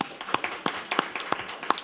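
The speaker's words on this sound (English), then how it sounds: "So let's clap it up for that." A small audience at a school district meeting claps in a thin, uneven patter of separate hand claps, fairly close, with no voices over it.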